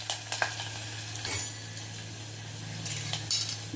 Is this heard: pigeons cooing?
no